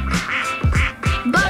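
Cartoonish duck quacks from a Roblox elevator game ring out in a quick series of about four bright, close calls, loud and back to back with no talk over them.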